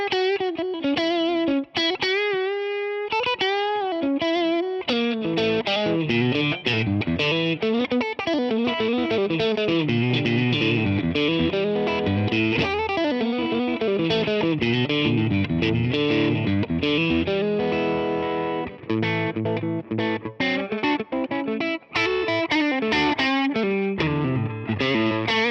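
An electric guitar plays through a Mesa Boogie Fillmore 50 amp on a slightly dirty, crunchy channel setting, strummed chords and single-note runs ringing out loud and continuous with no talking.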